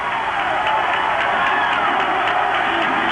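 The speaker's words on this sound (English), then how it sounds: "Both sides, fans on their feet here, cheering their teams on." Basketball crowd at a girls' district tournament game on their feet, a steady dense roar of cheering and shouting from both sides filling the gym with no break.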